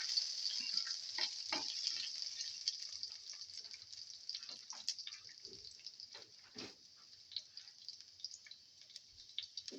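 Cloves, caraway seeds and salt frying in a hot pan for a chicken liver okra potato pilaf, a steady close hiss with scattered crackles and a few scraping stirs, no voices.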